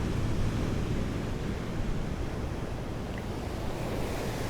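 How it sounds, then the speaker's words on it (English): Steady roar of ocean waves breaking on a shoreline, continuous broadband surf with wind, no voices. "today we're facing an ocean"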